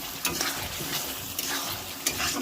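Potato curry simmering and being stirred in a pan with added gravy from a cauliflower curry, giving a steady sizzle with scraping stir strokes and occasional louder clatters, close and continuous with no talk.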